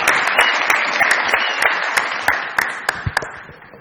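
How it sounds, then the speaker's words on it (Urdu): A studio audience at a Pakistani comedy show breaks into dense, steady applause that lasts about four seconds, with a few sharper individual claps toward the end and no talking. "بہت ساری تالیوں میں"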